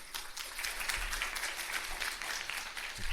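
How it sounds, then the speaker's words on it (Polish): An audience at a hotel conference on pharmaceutical industry regulations gives a short round of applause, fairly faint and distant-sounding, a steady patter of many hands. "Proszę o brawa."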